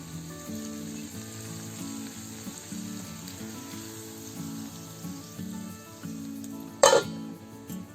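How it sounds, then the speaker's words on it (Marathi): Hot tadka of dried chillies and curry leaves in oil for raw papaya curry, a steady sizzle with a sharp, loud hiss near the end as it is poured into the curry, no talking. "आता आपण तो तडका कढीमध्ये ओतूया."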